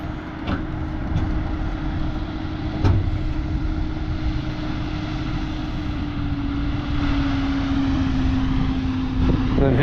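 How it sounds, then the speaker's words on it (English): Manure-spreading truck moving forward across a wet field, a steady low engine drone with a constant hum running throughout, close and unbroken. "And then with the truck, he can move forward."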